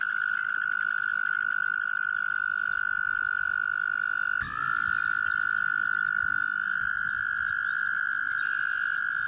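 A steady, high-pitched trill of breeding male American toads calling, loud and continuous throughout, with a second trill briefly overlapping midway.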